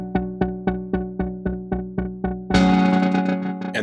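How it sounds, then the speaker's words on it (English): A synth patch in Ableton's Analog runs through Echo with a shaped filter and dry/wet: nine evenly spaced plucked hits give way to a sustained, brighter, distorted chord with echo tails, loud and alone. "Shaper controls Analog's filter frequency and Echo's dry wet parameter"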